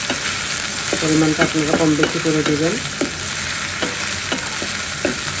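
Onion frying with ginger garlic paste for beef korma, a steady sizzle in the pan broken by repeated scraping stirs, with someone speaking briefly over the cooking.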